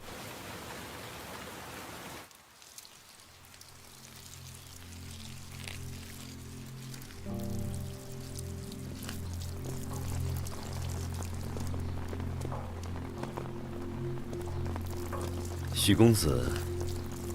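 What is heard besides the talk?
rain falling while someone waters flowers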